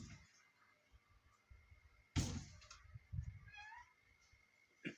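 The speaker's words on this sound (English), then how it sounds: "My cat is wanting to get in here." A pet cat meows to be let into a room, giving a few short, fairly close cries between quiet household noises and one loud bump.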